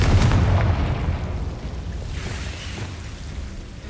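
Confringo blasting spell detonating in Hogwarts Legacy, a loud booming explosion at the start that rolls into a rumbling, fading decay with faint debris crackle, no voices.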